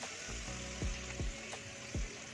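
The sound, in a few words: potatoes frying in oil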